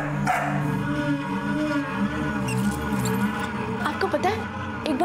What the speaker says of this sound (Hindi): बेचारा बस भौंके ही जा रहा है।